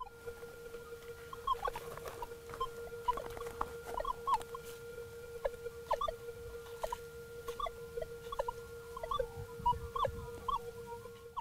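A Minelab metal detector, a Manticore or Equinox 900, turned up to sensitivity 28 while gold prospecting outdoors, chatters with a steady tone and irregular faint clicks and blips over quiet background noise.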